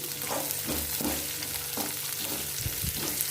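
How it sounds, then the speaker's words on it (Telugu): Onions fry in oil in a pan for Telugu-style onion rice, a close, steady sizzle with repeated stirring scrapes every half second or so, and no talking. "కొంచెం ఫ్రై అయినాయి కదా ఆనియన్స్"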